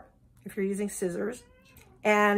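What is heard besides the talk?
cat meowing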